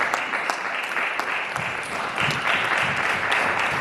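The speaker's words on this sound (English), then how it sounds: "she deserves a huge round of applause" A room of guests at a book launch breaks into sustained applause, a dense, even clapping that carries steadily with a few sharper claps standing out nearby.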